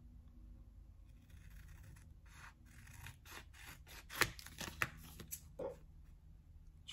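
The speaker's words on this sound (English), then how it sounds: "using my good scissors." Good scissors trim sublimation paper in a quiet room, giving a few soft snips and sharper cuts amid light paper rustling, all faint and close.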